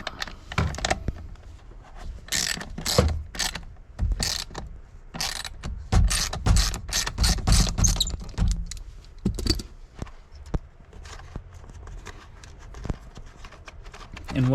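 Rapid ratchet clicks come in bursts as an airbag safety bolt is worked out of the steering column of a Nissan B13 Sentra SE-R, close, with some low mutters and handling noise between bursts.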